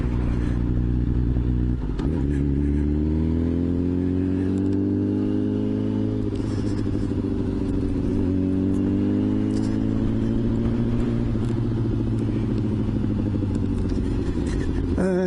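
A Kawasaki ZXR 750 H1 motorcycle on gravel holds a loud, close, steady engine drone through the whole stretch, its pitch sliding up and down with the throttle as the back wheel snakes.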